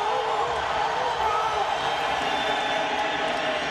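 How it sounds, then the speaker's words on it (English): Football stadium crowd at a 2002 Colts versus Eagles game roaring in a loud, sustained, dense wash of cheering that holds steady throughout, with a broadcast voice faintly mixed beneath. "the crowd starts to go crazy when Manning does this"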